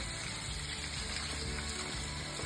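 Boiled fenugreek leaves being washed in water, a steady, dense splashing and swishing of water that runs continuously, close and fairly faint with no talking.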